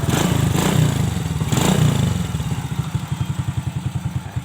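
A motorcycle engine starts up after a cranking whir and settles into a steady, rapid, thumping idle, loud and close, with no talk over it.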